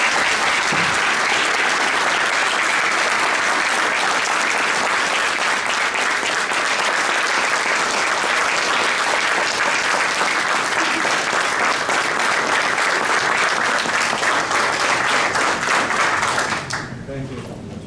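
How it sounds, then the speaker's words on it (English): An audience gives a sustained round of applause, dense and steady clapping at full volume for about sixteen seconds before it abruptly drops away. "Let's give them a round of applause again."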